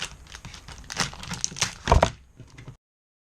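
Plastic packaging being peeled off a tempered glass screen protector for an iPhone 6/6s Plus, close crinkling and crackling with a sharper tearing burst near the end before silence.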